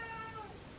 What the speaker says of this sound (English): You can hear my cat meowing.